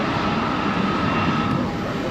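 An airliner's engines drone steadily on arrival at Tripoli Airport in Libya, a loud, constant broadband roar with a faint tonal whine, heard up close without talk.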